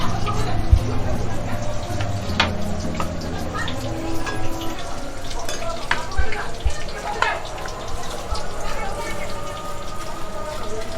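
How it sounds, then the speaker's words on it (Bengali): Egg chops sizzle one by one in hot frying oil in a home kitchen, a steady crackling patter with a few sharper pops, while voices talk in the background. "এগুলো হচ্ছে ডিম চপ ভাজা হচ্ছে এখন এক এক করে।"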